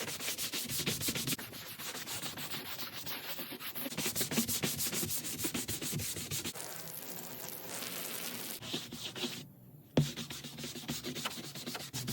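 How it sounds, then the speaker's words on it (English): A brush scrubs the exterior of an RV camper trailer coated in degreaser, producing steady, rhythmic, close rubbing strokes with a short pause near the end. "So we're gonna clean this and degrease it and brush it really well now."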